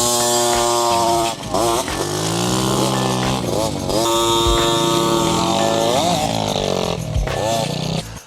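A motorcycle accelerates hard in first gear from a standstill on an uphill climb, its engine loud and close, revving in rising sweeps with brief drops between pulls.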